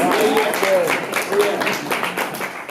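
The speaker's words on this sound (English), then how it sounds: "Let's give her a round of applause." Round of applause from an audience at a community health and clean forum on 125th Street in Harlem, moderate clapping mixed with voices and chatter over the top.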